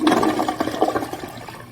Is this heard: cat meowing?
no